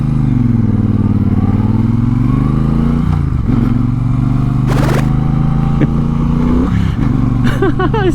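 A 2022 Triumph Bonneville Bobber motorcycle rumbles loudly up close, revs as it pulls away, then stumbles and stalls, followed by clunks and a restart attempt.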